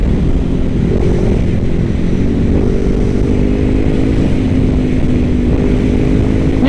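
A sport motorcycle, a Honda CBR500R or Kawasaki Ninja 650, accelerates hard, its loud, continuous engine drone climbing steadily in pitch without a break.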